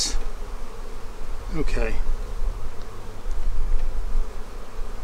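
Honey bees buzz steadily through a small-hive inspection, a continuous close drone with a brief louder burst as one flies past, and a single short spoken word over it.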